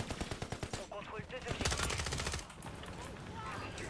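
HRM-9 submachine gun with a 30-round magazine firing in a video game: fast, dense rattling bursts that blend into a continuous roar, mixed with other game noise and a voice talking over it.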